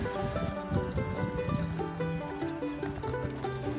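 Horses pulling a Concord coach over a mountain pass, their hooves clopping at a walk in a steady, moderately close rhythm over a dense background of harmonic sound.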